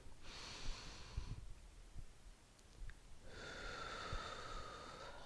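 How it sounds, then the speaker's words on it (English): Two long, slow breaths, a deep inhale then a breathy exhale, are drawn close to the microphone during a foam roller back and glute exercise, soft and unhurried with no talking. "So let's go deep breath in."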